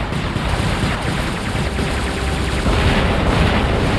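Robot weapons in the mech combat game War Robots fire continuously, a dense, loud barrage of rapid shots and booms that runs unbroken the whole time with no talk over it.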